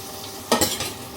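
Chopped onions hit hot cooking oil in a pan with a sudden burst of sizzling and a clink from a utensil. The sizzle stays steady for a moment, close and alone.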